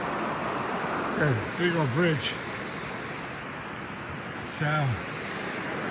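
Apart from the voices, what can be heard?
Laurel Forks stream flowing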